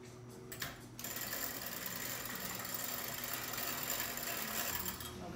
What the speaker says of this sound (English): separately whisk the eggs until they get frothy